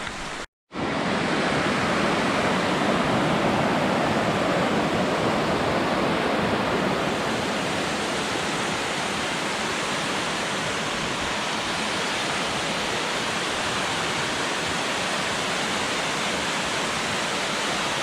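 Steady, loud rush of water flowing all around a mountain trail on the Beaver Brook route up Moosilauke, a constant broadband wash with no voices, after a brief dropout at the start.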